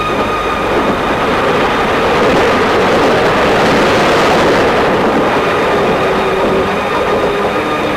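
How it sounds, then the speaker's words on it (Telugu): A train departing from a station, heard as a loud, continuous, dense rumble and rattle of rail cars that fills the whole stretch without any talking. "ట్రైన్ వెళ్ళిపోతుంది"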